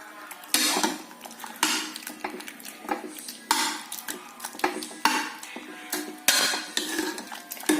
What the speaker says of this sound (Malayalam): മത്തങ്ങ വെന്തു. ഒന്ന് ഉടച്ചെടുക്കണം.